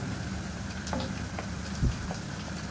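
Onion added to garlic sizzling in a frying pan, a steady close hiss of oil with a few small pops and one soft thump.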